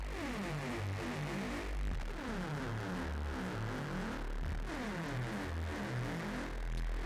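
A continuous buzzing FM synthesizer tone with metallic, shifting harmonics that sweep and warble at a steady volume.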